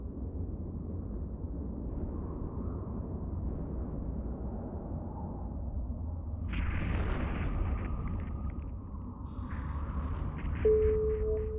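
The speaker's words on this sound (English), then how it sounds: "Activate your primary weapon to destroy the generator." Ship weapons in EVE Online destroy a generator, heard as a low rumbling explosion followed by electronic weapon tones and a short beep over a steady deep space hum.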